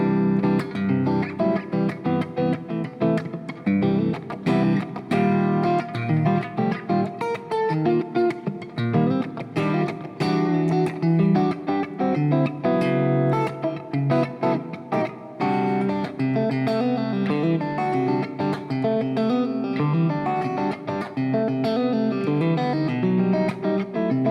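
Acoustic guitar played fingerstyle with percussive body taps under busy melodic picking, steady and continuous throughout, close and fairly loud.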